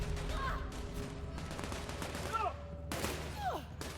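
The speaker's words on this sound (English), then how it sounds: "Stop shooting people." Gunfire in the video game The Outer Worlds, a dense fusillade of shots running throughout alongside game effects and occasional voices.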